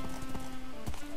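A horse gallops in a Minecraft Hypixel party game race, with rapid rhythmic hoof clip-clops over a steady game hum and no talk.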